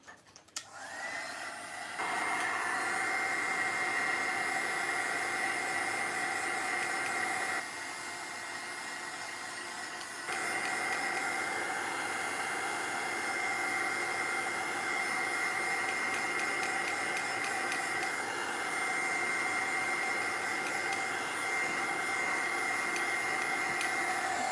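A hair dryer or heat tool blows steadily over wet paint on an altered-art project in a darker mood, a loud continuous whoosh that runs nearly unbroken, dipping briefly partway through before resuming at full strength.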